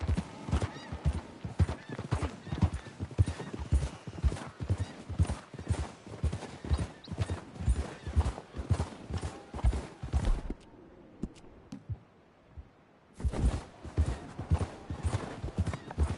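Horse hooves clip-clop in a steady, close, rhythmic trot in the video game Red Dead Redemption II, pausing briefly near the end before resuming, with no talk over it.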